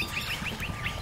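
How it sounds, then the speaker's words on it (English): Colorful birds living in a tree give a quick series of repeated high chirps, rhythmic and moderately close over steady outdoor background noise. "There's like those colorful birds. I don't know, I forgot what they're called, but they like live in this tree."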